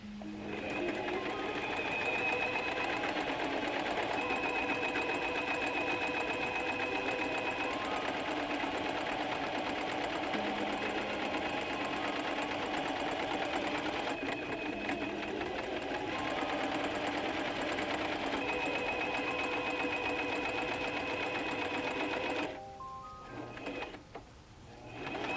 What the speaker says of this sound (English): Time to resume sewing,